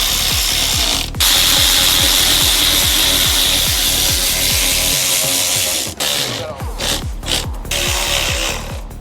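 Pneumatic or power tool driving bolts during a BMW 440i downpipe and charge pipe install, a rapid ratcheting train of regular clicks for about six seconds, then broken, uneven bursts with short gaps near the end.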